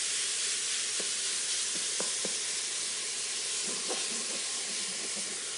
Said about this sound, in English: the mission is to brown this ground beef